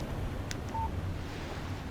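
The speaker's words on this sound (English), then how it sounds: "Text message from Barry." A phone in a video game gives a short text message notification, a brief soft electronic beep heard once over steady low wind-like ambient noise, with no talking.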